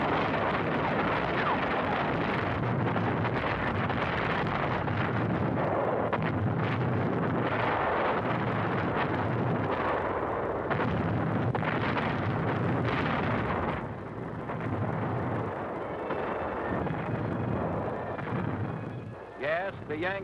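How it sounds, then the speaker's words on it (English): Big naval guns bombard shore installations at Rendova in 1944 wartime film, a dense continuous roar of booming blasts and rumble, loud and distant-sounding, heard through old optical soundtrack hiss. "Rendova shore installations come within range of our big naval guns."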